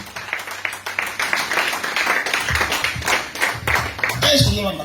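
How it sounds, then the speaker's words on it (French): A church congregation claps steadily for Jesus, the applause dense and rhythmic throughout, with voices talking and calling over it. "acclame très fort pour Jésus"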